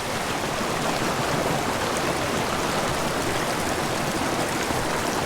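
Mountain stream water rushing over exposed rock at a fly fishing spot, a dense, steady hiss and gurgle of flowing water, close and constant with no pauses.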